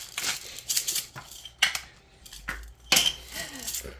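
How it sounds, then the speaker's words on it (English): A hand grinder cracks pink Himalayan salt in a home kitchen, giving off several short, close, crisp scraping and clicking bursts separated by brief pauses. "Pink Himalayan salt, right from the grinder, fresh."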